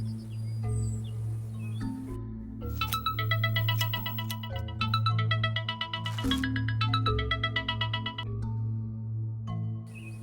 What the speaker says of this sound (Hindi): मैं नागराज को फोन करता हूँ।